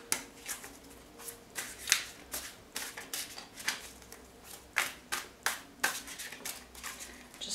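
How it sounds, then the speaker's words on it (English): Tarot cards riffle-shuffled repeatedly, a string of quick crisp fluttering bursts at an uneven rhythm, close up with no talking. "Just one more shuffle."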